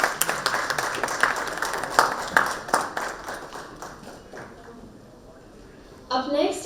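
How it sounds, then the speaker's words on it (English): Scattered hand clapping from a conference plenary audience welcoming a panelist, a few sharp claps standing out before thinning to quiet, then a voice starts speaking near the end. "A round of applause,"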